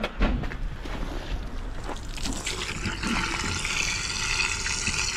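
Icy water drains out and flows steadily in a cold setting at Abisko, a continuous rushing splash that grows slightly brighter and fuller toward the end.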